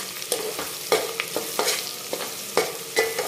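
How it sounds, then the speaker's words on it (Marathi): Sliced onion and tadka chilies fry softly in a pan while a spoon stirs, giving a low sizzle broken by repeated light scrapes and taps against the metal. "आणि कांदा आपल्याला लालसर करायचा नाही, मऊ असा आपल्याला शिजवल्यासारखा तळून घ्यायचा आहे."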